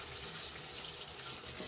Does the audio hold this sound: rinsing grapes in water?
yes